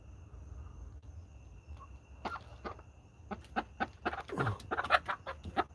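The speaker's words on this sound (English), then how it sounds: "Dang chickens." Chickens cluck outdoors over a low background hum, starting sparse and growing into a busy run of clucks and squawks toward the end, fairly close by.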